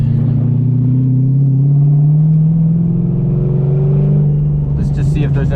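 Straight-piped M60 V8 swapped into a BMW E30 rumbles steadily from inside the cabin, a deep continuous drone that swells slightly as revs shift, loud throughout with some extra noise near the end.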